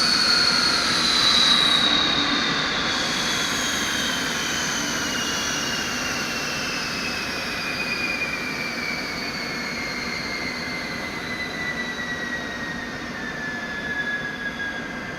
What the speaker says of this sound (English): And now we can proceed to shut our engines down.